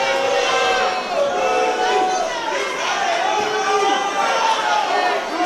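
Cheering crowd at a CCW Bash at the Brew 47 wrestling show, a loud continuous roar of many voices with shouts and chatter, steady throughout and close up.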